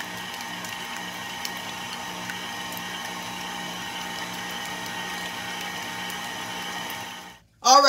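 An electric mixer runs at medium speed through cake batter for a caramel apple bundt cake, a steady close whirring drone that dips briefly near the end before picking back up.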